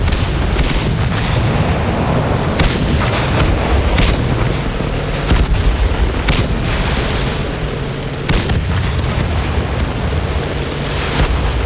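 Tank cannon fire in a Chaffee battle game match, a dense run of heavy booms and explosions layered over constant loud rumbling, with several sharp blasts standing out.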